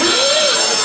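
A quiz show contestant's buzzer on the comedy panel show QI sounds as a loud, sustained electronic tone that holds steady for just under a second, with no talk over it.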